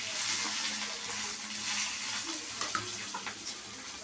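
Onions with pepper, fennel and coconut sautéing in a pan for mutton gravy, a soft continuous sizzle with a few faint scrapes and clinks of stirring near the end, no talk.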